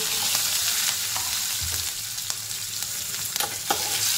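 Asafoetida, curry leaves and slit green chillies fry in hot oil for a spicy tomato bhaji, a steady close sizzle with scattered crackles and pops and no talking.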